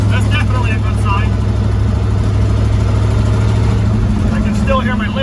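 A car engine idles steadily after being reassembled, a continuous low hum running throughout, with a faint lifter tick and someone talking over it.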